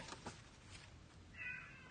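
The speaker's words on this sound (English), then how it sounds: "My cat wants to get inside. He's meowing." Indoors, a cat meows to be let inside: a few short calls early on, then a clearer, higher meow near the end, fairly faint against a quiet room.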